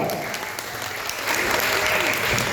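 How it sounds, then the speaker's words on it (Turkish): Applause from an audience at a performance by a dance group, steady clapping that swells slightly louder partway through. "Kral Kasımov alkışlar."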